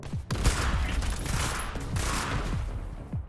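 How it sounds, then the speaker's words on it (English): Rapid bursts of burst-rifle gunfire from the online shooter Bullet League, close and loud, with repeated sharp volleys and explosive cracks running continuously through the whole stretch. "Smule2's burst rifle is cooking."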